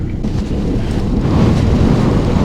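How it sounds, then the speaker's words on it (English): Strong wind gusts over a lake while fishing for landlocked coho, a loud, steady roar buffeting the microphone throughout, with no other sound standing out. "The wind is blowing mad, like mad, pushing me on over here."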